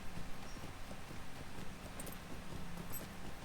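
Horse hooves clip-clopping steadily along a road in the Lord of the Rings Online video game, a continuous rhythmic trot at moderate volume with no talking.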